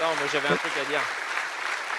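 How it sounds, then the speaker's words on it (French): Applause from the audience at a trades skills competition event, a broad wash of clapping running under someone talking close by. "Je pense qu'on peut applaudir tout le monde."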